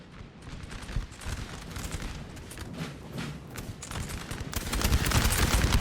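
Musket volley fire on a Napoleon Total War battlefield, crackling rippling gunshots in dense bursts that build toward a heavy roar at the end.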